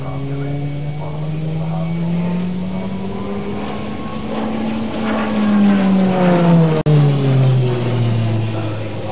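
A PC-9 turboprop trainer aircraft flies past at the 1984 Farnborough International Air Show, its propeller drone loud and sustained, rising and then falling in pitch as it passes close overhead.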